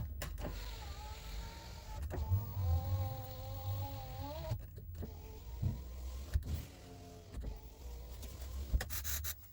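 An electric power window motor in a Chevrolet Lacetti whines as the glass slides up and down, several rising and falling strained hums with clunks at the stops.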